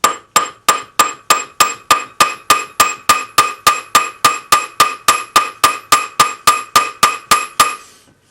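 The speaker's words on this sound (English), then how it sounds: "Put the side that's going to be the outside of your ring against your bench block and just planish that 7 millimeter end." A hammer planishes the end of a metal ring blank on a bench block: about twenty evenly spaced, bright ringing strikes in a steady rhythm, close and loud with no talk.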